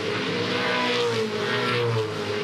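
A Supercars race car at the Townsville 500 street circuit, sliding through a turn with a loud, close, continuous engine roar and steady high revs, no talk.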